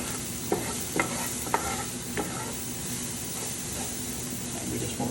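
Vegetables and herbs sautéing in a hot pan at an outdoor market cooking demo, a steady sizzle punctuated by several sharp utensil scrapes and taps near the start.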